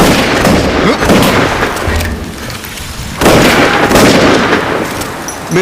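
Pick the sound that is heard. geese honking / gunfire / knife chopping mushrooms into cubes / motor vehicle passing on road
gunfire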